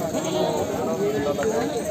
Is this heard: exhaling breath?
no